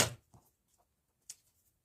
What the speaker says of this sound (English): Sorry about the noise of the scissors landing on my desk.